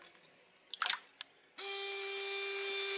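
After some faint handling clicks, a cheap Chinese electronic jerkbait fishing lure switches on and buzzes with a steady, thin electric hum that lasts to the end of the clip, close up and unaccompanied.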